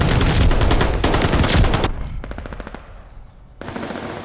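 Loud, rapid automatic gunfire in a Call of Duty Hardpoint match, with dense bursts of shots close up, a short pause filled with quicker, lighter firing, then another heavy burst.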